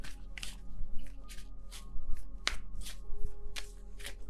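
Tarot cards riffle and slap in quick, irregular bursts, close and soft, repeated several times with brief pauses between.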